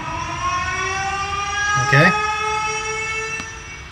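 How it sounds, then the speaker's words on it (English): A steady, loud siren sample played from Serato DJ's sample player, its tone with layered harmonics holding throughout, and a brief voice cuts in near the middle. "That's my siren."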